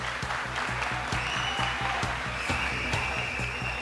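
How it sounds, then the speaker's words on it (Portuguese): An audience in a technical presentation room applauds to welcome a speaker, steady clapping with some loud individual claps standing out over the crowd. "Com muita energia, uma salva de palmas"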